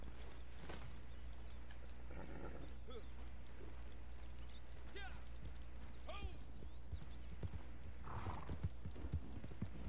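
Horse in a PS4 video game: hooves clip-clop at a moderate pace with a brief whinny, over a low steady drone while players talk.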